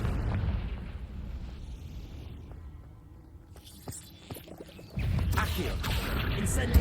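The Confringo spell goes off in the video game Hogwarts Legacy as a fiery explosion, a rumbling blast that fades, then a sudden loud burst of crackling, roaring fire near the end, with no talking.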